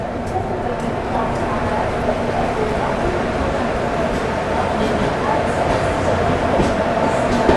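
Steady rumble of a Humsafar passenger train slowing as it approaches Lonavla station, with continuous wheel and carriage noise and faint rhythmic clatter heard from on board.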